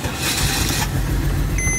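A 2008–2014 Mercedes-Benz C350 (W204) starts up, its engine catching with a steady broadband roar that settles into a smooth run, heard close and loud with no voices.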